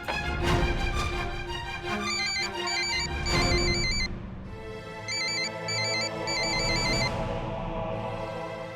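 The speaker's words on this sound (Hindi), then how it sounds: "मैं जीत को फोन करती हूँ।" A phone ringtone plays in repeated electronic bursts, loud and close, with a steady melodic warble and brief pauses between rings.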